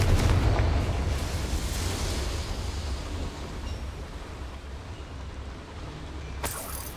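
A Confringo spell explosion in the video game Hogwarts Legacy bursts loudly at the start, then trails off into a long rumbling roar that slowly fades, ending with a faint crackle.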